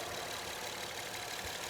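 A 2009 Honda Accord 3.5 V6 idles steadily in its normal state with a slight click, a faint continuous engine hum with no one talking.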